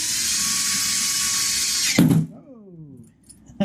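A power drill whirs at high speed for about two seconds, then stops abruptly with a clunk and winds down into quiet.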